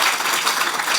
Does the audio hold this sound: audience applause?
yes